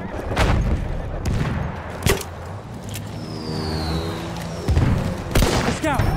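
Machine gun fire in Battlefield 1 crackles in sharp, repeated bursts among distant booms and engine noise, with a battlefield voice calling out over the loud, busy mix.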